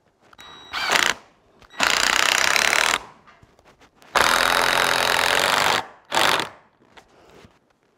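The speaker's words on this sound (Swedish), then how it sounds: "Och så får vi fixa skruv och skruvdragare." Cordless power screwdriver driving screws into a roof under construction, heard as four loud whirring bursts of varying length with quiet pauses between them, up close and with no talking.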